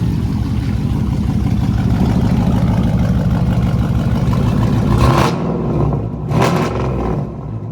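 SRT Jeep with catless mid pipes, its engine running loud and raspy under steady load, then flaring in two sharp revs before settling back down.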